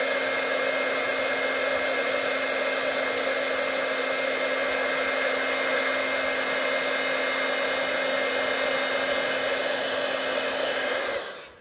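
A heat tool blows hot air steadily over a Halloween card for about eleven seconds, a loud, even whirring hiss with a constant hum that stops abruptly at the end.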